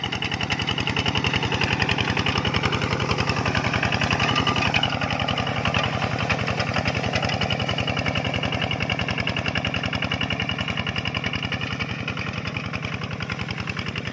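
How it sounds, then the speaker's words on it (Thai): An old early-model Thai walk-behind two-wheel tractor engine runs steadily at idle, a loud, close, evenly chugging single-cylinder rhythm that continues unbroken throughout. "รถ ไถนาเดินตามครับหรือว่า รถเด็กครับ"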